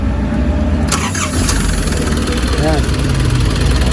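A Nissan Urvan engine with its cover removed starts and settles into a loud, rough hum with an audible groan, running continuously while someone speaks briefly over it.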